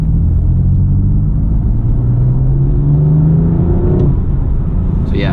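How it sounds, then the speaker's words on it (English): A 2018 BMW M4 Competition coupé with a manual gearbox is driven hard in third gear, its engine rising in a loud, steady climb heard from inside the cabin, with a brief shift-like break near the end. "Let's put my foot down in third gear."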